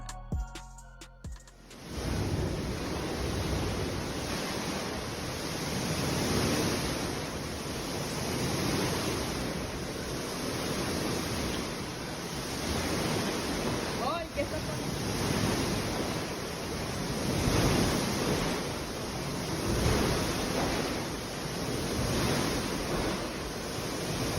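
Earthquake-driven water sloshing and churning across a rooftop swimming pool, a loud continuous wash of surging waves with wind buffeting the microphone, and no voices.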